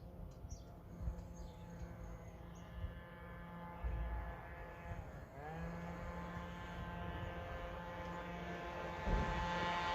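An MBK Stunt scooter's small engine running at a steady idle nearby, a buzzing droning tone that dips briefly midway, then continues with a slight rise in revs, with no talk.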